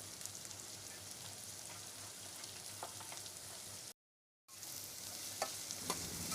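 Onions fry toward brown in a pan of oil, a low, even hiss with occasional light pops. The sizzle cuts out briefly in the middle, then resumes unchanged.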